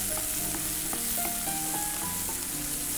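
Ingredients with a pinch of salt sizzle and fry in a pan while being sautéed, a steady close hiss with light stirring clicks and scrapes.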